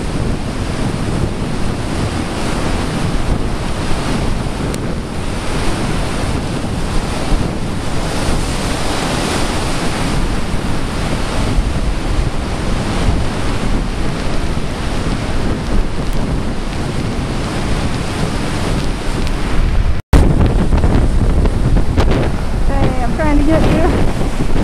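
Hurricane Sandy waves crash and wind buffets a lake shore pier in a loud, continuous roar of surf and gusting microphone wind, with a brief dropout near the end.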